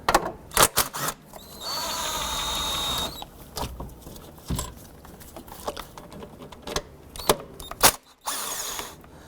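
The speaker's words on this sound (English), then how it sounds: "We're going to go ahead and use our 12mm socket and impact unit to remove" An impact tool with a 12mm socket removes throttle body bolts on a 2006-2012 Honda Civic: sharp rattling bursts, one sustained whirring run, then scattered clanks and short buzzes, close and loud.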